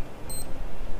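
Planted C4 bomb in Counter-Strike: Source on the Inferno map, a single brief high-pitched electronic beep chirping once over a low, rumbling game background.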